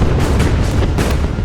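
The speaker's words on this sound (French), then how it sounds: "Les canons français répondirent bientôt aux Russes avec la même férocité." Cannon artillery fire in a Napoleonic battle, the 1807 Battle of Eylau: a rapid series of heavy booms and thuds with a rumbling low end, loud and dense, without speech.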